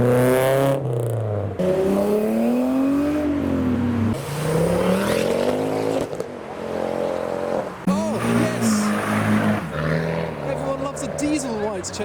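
A modified car pulls away from a car meet with hard acceleration, its engine revving loudly and climbing through rising and falling pitch sweeps, with crowd voices mixed in throughout.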